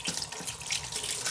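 Warm water runs from a sink tap for washing makeup brushes, a steady close splashing stream at even strength with no one talking.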